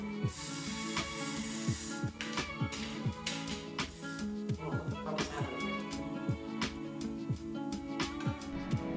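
Light first coat of white spray paint hissed across a white PS5 console cover, a brief steady spray in the opening seconds over rhythmic background music.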